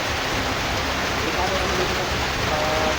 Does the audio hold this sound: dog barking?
no